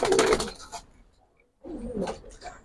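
Racer and fancy pigeons cooing close by in soft, low bursts, with one stretch at the start and another near the end and a short quiet gap between them.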